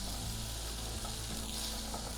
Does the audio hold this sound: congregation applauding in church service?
no